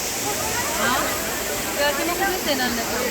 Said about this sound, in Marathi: खाली पण अजून बरेच धबधबे आहेत तिकडे जाऊन भिजूया